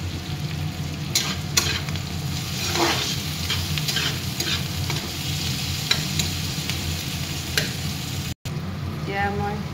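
Tomatoes fry and get stirred in a pan for a fish curry with ridge gourd and mustard, a steady close sizzle broken by repeated scraping strokes of the spoon, with no talk.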